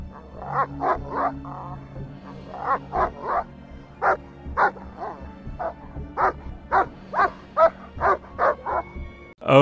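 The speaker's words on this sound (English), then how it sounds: "the dog keeled over by psychically drinking the water and was still barking even though it fell down" Dog barking in the video game Murder In Tehran's Alleys 2016: a long run of sharp, evenly spaced barks and yips, fairly loud and close, over a steady low in-game hum, with no talking.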